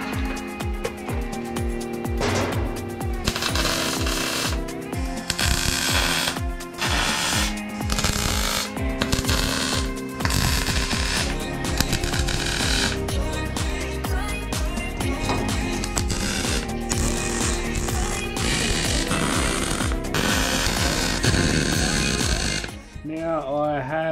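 Stitch welding on a custom steel tray for a 79 Series Landcruiser gives close, loud crackling bursts that start and stop in short runs, with brief gaps between welds.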